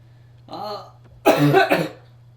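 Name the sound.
cough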